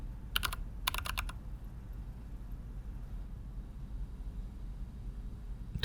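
Two short bursts of computer keyboard typing in a video game, quick clicky keystrokes up front, then a quiet low hum for the rest.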